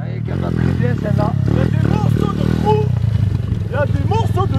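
A small motocross motorcycle engine runs close and steady, its buzzing drone sitting under people chatting nearby outdoors.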